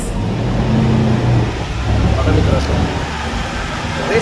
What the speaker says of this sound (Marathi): आता गाडी रेस केली तरी गाडीला अजिबात दूर येत नाही